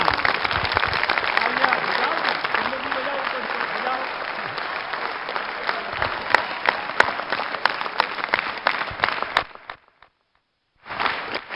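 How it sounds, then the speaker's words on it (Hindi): A room of school students clapping for themselves, sustained dense applause with a voice talking over it, ending abruptly in a brief silence before noise resumes. "अपने लिए ताली बजा लो सारे बच्चे"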